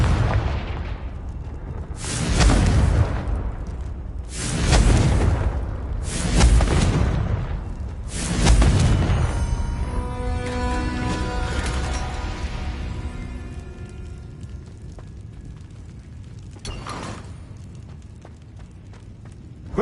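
A Confringo fire spell in Hogwarts Legacy bursts three times in quick succession, each a loud, booming explosion with a crackling fiery tail, followed by a ringing magical shimmer and one fainter blast near the end.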